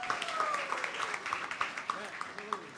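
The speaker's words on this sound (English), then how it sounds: "Let's give him a huge round of applause once again" A crowd at a pitch competition grand finale in Dhaka applauds the winner, scattered clapping that thins into separate claps toward the end, with voices talking through it.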